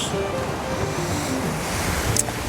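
Cold North Sea surf washing onto a Dutch beach, a steady broadband wash of breaking waves with wind buffeting the microphone and a faint voice murmuring underneath.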